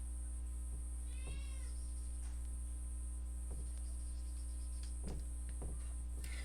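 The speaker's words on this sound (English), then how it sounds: "when she meows, she's either hungry or she wants to go to the bathroom" A cat meows a few times indoors, short, moderately loud calls spread across several seconds over a steady electrical hum, with one rising wavering cry early on and quieter clicks between.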